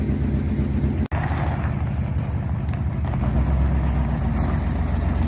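A 1957 Ford Thunderbird cruising on the road, its engine giving a steady low rumble with road and wind noise, close and continuous, with one brief dropout early on.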